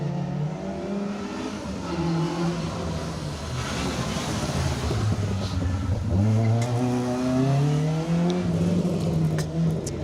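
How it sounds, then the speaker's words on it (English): A production-spec Peugeot 306 rally car works around an asphalt hairpin on the Manx Rally, its engine dropping on the approach and then revving hard through rising gear sweeps, loud and fairly close. "Roger Kennedy, Wendy Blackledge, getting around the hairpin for the second time, neat and tidy in the very much production spec Peugeot 306."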